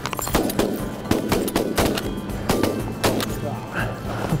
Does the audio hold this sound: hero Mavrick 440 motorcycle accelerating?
no